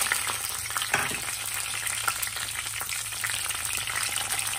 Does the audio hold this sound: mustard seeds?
yes